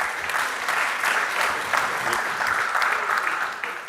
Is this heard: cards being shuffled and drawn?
no